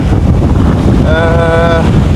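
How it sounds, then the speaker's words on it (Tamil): Strong wind blows across a microphone on the shore of Mandaitivu island, a steady loud rumbling roar throughout, with a brief whistling tonal sound partway through. "நல்ல காற்று"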